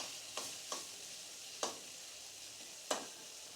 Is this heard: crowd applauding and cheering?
no